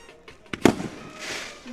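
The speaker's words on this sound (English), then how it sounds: "Fireworks coming off." Fireworks burst at a high school football game as the team runs out, a few sharp cracks and pops close together followed by a crackling crowd wash, with no talk over the bursts.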